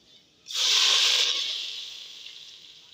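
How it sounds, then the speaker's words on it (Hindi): Water poured into browned rice in a hot pot, a sudden loud sizzling hiss bursting up that slowly fades and settles over a few seconds, with no voices. "तो अब मैं इसमें लगाने लगी हूँ पानी।"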